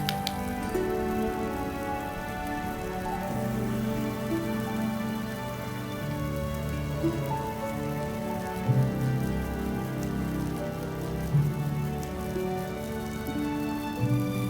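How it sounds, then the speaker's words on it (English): Water from a garden hose sprays onto a microphone, giving a dense, continuous patter like heavy rain hitting the surface, loud and close, with occasional louder splashes. "So we're going to sprinkle this garden hose onto this for a full minute and see if it survives this."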